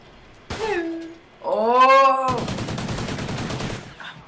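Rapid automatic assault rifle fire in a clan-versus-clan video game bursts out loud and close, a dense rattling volley lasting about a second and a half after a short tonal sound effect.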